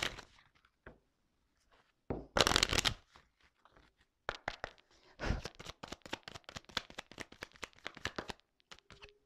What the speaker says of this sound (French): je vais prendre quelques cartes, juste 3 cartes